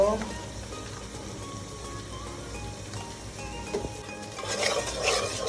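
Shrimp and greens being stirred and fried in a pan, a steady sizzle with scraping stirs that grows louder toward the end, with a voice speaking over it.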